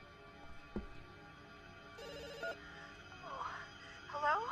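A telephone rings in The Works of Mercy video game, repeated electronic ringing tones at moderate loudness with other game sounds and background noise around it.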